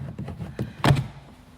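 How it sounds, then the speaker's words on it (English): A Chevrolet Cruze door handle pops loose from the door panel with a single sharp plastic thunk, preceded by a few soft taps and clicks as the trim is worked free. "and the door handle pops out."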